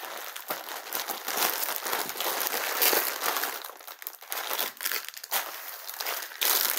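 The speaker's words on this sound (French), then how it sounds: "je suis désolée du bruit avec les sachets" Plastic packaging bags crinkle and crunch continuously while a parcel is opened, a busy, close rustling with irregular louder scrunches and no talking.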